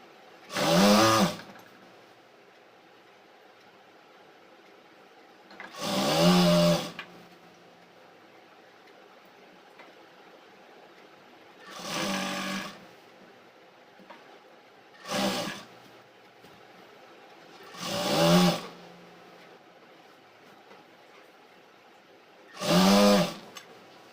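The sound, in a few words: sewing machine stitching palazzo pants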